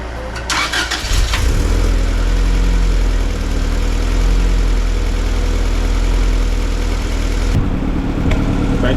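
Honda Civic engine cranking briefly, catching and settling into a loud, steady close-up idle with a low throbbing rumble, then a sudden change near the end as the engine note drops away.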